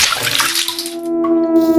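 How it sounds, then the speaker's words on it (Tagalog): A bucket of water is poured over a car as a short burst of gushing, splashing noise that quickly fades into a sustained, steady tone. "Nagulat kaming lahat nang may magbuhos ng isang timbang tubig sa sasakyan."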